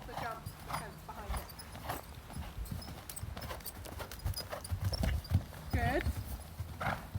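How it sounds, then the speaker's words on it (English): Hooves of a cantering horse during a jumping lesson, rhythmic clip-clop footfalls at middle distance, with a coach talking over them and a brief whinny-like call. "Keep that canter."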